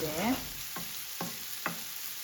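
Rice and meat being sautéed in a pan for chicken iç pilav, a steady sizzle broken by three sharp spoon scrapes and clicks at even intervals, close and moderately loud after a brief squeal at the start.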